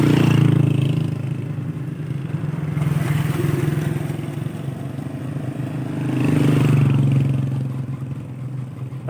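A motorcycle rides along a scenic mountain road in Azad Kashmir, its mid-pitched engine droning steadily with two swells of revving, accompanied by clattering and road rumble, close and moderately loud.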